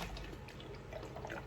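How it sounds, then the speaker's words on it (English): Water is poured into a container for a homemade tornado-in-a-bottle demonstration, making a steady close splashing and trickling flow with no talking. "So as you can see, the water goes here"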